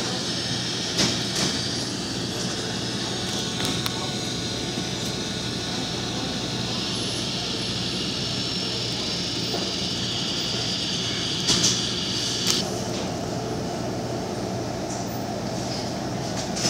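Airliner taxiing in the Infinite Flight mobile flight simulator at Charlotte/Augusta, a steady droning engine hum holding at even loudness throughout, with a few faint clicks and no talk.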